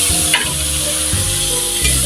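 Shrimp hit a hot pan of garlic and onion and burst into a loud, steady sizzle and frying crackle, with stirring scrapes and a couple of fresh surges as more goes in.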